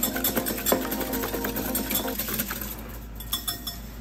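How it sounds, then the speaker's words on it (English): Two eggs whisked in a bowl for wet muffin batter, giving a quick run of light metallic clinks and scrapes against the bowl that fades in the last second. "Give them a little whisk."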